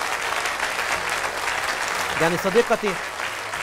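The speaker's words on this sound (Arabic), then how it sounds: "صفقوا لمريم على هذه القصة المرتجلة الجميلة" A children's studio audience claps in a steady, moderately loud patter throughout, while an adult briefly speaks over the applause near the end.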